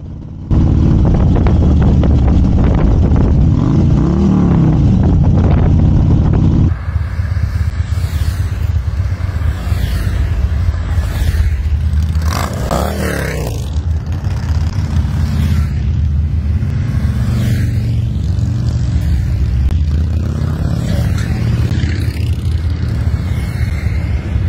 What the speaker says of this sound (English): we had 13 motorcycles on our ride